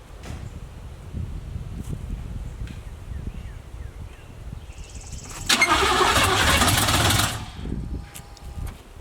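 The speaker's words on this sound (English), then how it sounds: "Push the gear shift up while you turn the key." Near a Chevy with a failing motor, an engine cranks and catches for a couple of seconds, a loud grinding burst between quieter outdoor rustling and faint background noise.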